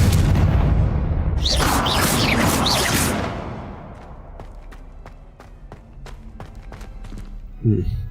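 Spell explosions in the video game Hogwarts Legacy: a loud booming blast with whooshing sparkle, then scattered sharp crackles and thuds as it fades, followed by another brief hit near the end.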